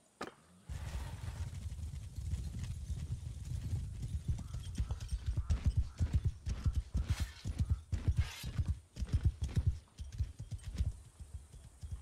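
Horse hooves clip-clop in Mount & Blade 2: Bannerlord, a fast rhythmic patter of hoofbeats over a low rumbling battlefield bed, fairly quiet.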